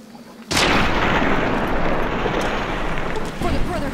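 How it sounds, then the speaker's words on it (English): A grenade goes off inside Ruby Hill Mine in the video game Fallout New Vegas, one sudden loud blast followed by a long rumbling decay, with some faint noise near the end. "Grenade!"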